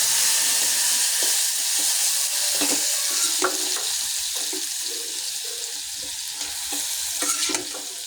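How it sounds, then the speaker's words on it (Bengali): Carrot, cauliflower, potato and tomato pieces frying in hot oil give a loud, close, continuous sizzle, broken by scattered scraping and clinking of stirring throughout. "এখন সবজি তেলে নিতে হবে"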